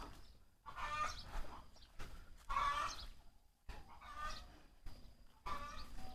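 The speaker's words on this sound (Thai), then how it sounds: "สงสัยไก่ตัวนี้กำลังจะออกไข่แล้ว" A hen clucks in several separate bursts, close and clear, with short quiet pauses between each run of calls.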